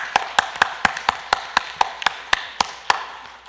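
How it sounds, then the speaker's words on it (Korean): A Korean church congregation at a Sunday worship service gives applause of thanks and praise. It comes as a run of evenly spaced, sharp claps, close and crisp, in a steady unison rhythm. "감사의 박수 한번 보내겠습니다."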